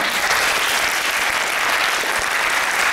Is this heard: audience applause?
yes